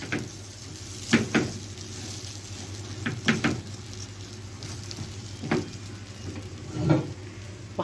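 Rice stirred into toasted vermicelli in a hot pot, a steady close sizzle with periodic scraping stirs and clinks of a utensil against the pot every second or two, no voices.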